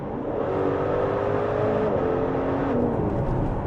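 A Maserati Levante Trofeo's 590-horsepower V8 twin-turbo engine drones steadily with a deep exhaust note, its pitch rising and falling as it revs, loud and continuous with no talking.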